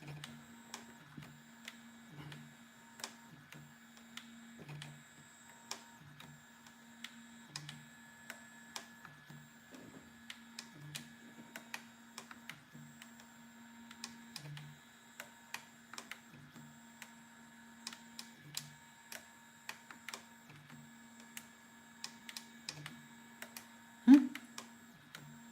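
An Easythreed X1 3D printer whirs quietly with steady motor hums, soft rhythmic ticks and clicks, and an occasional sharper crack of plastic, continuous and close.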